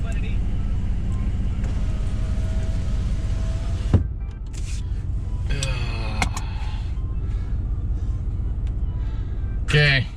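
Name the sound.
Ram 1500 pickup truck driving off-road through mud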